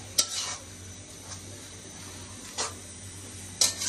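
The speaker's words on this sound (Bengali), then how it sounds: "এই দেখেন কিভাবে নাড়াচাড়া করে, মশলা কিভাবে মিক্স করে।" A spatula stirs noodles with spices in a hot pan, scraping strikes at irregular intervals over a steady sizzle, close and clear, with no talk.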